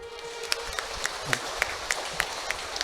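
A church congregation at a Catholic adoration service claps, sharp irregular hand claps ringing out over a soft background hum.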